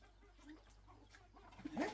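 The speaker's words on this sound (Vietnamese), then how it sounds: "Đấy, con gà, con gà." Chickens give a few soft clucks close by. A louder cluck comes near the end, set against quiet background noise.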